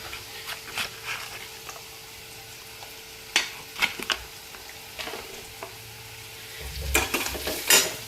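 Raw turmeric mixture stirred in a pan, a spoon scraping and clinking with soft repeated strokes over a low steady sizzle, close up with a few louder knocks near the end.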